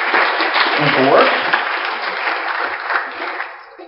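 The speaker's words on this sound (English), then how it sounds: "Let's give them a round of applause." Audience applause in a lecture hall during an astronomy class, a steady patter of clapping heard with a voice speaking briefly over it, tapering off toward the end.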